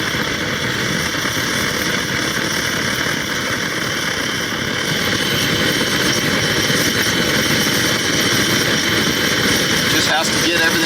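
An MSR Firefly camping stove roars steadily as it burns while priming, a loud, constant rushing hiss with no breaks, close up and unchanging throughout.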